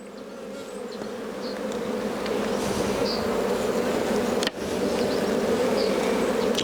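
Honeybees buzzing around an opened beehive during a spring inspection, a dense continuous drone close by with a brief dip partway through, no talk.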